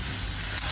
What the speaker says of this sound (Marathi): हिंग, हळद, कांदा सॉफ्ट होईपर्यंत परतायचा।